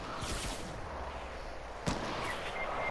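Gunfire in a Fortnite shootout, a few sharp shots and thuds with a heavier blast near the middle, set against steady game ambience.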